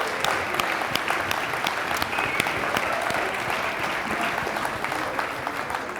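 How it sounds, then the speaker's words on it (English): Sustained applause from an audience at an energy-industry pitch competition, steady and dense across the whole stretch with a few scattered cheers, no speech over it. "one big round of applause for the organization."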